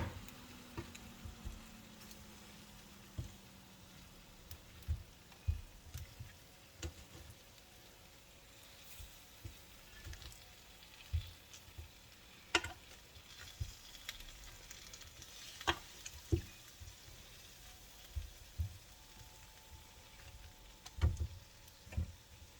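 Barbecue chicken cooks on a Ninja XL Grill with a faint, quiet sizzle, punctuated by scattered soft ticks and pops over about twenty seconds, with no talking.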